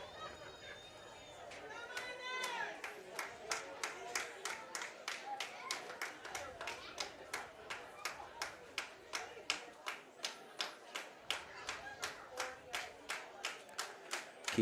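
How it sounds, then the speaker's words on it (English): Madisonville fans in the stands at a minor-league baseball game clap in a steady, rhythmic beat that builds and grows louder, with crowd chatter underneath. "Madisonville fans starting to clap, getting loud here"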